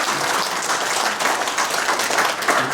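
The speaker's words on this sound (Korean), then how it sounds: "여러분들 큰 박수로 맞이해 주시기" Audience applause at a Buddhist forum, steady dense clapping from a hall crowd that holds at a loud, even level for a few seconds without any voices on top.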